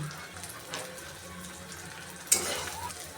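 Dried Bombay duck fish (loitta shutki) fries with spices in a pan, giving a steady close sizzle. One sharp clatter of a stirring utensil sounds partway through.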